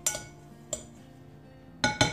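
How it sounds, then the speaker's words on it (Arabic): A utensil clinks against a bowl while dry cake ingredients with cinnamon are mixed, giving a few sharp, close taps: two near the start and a quick double clink at the end, with near silence between. "Donc je mélange tous mes ingrédients"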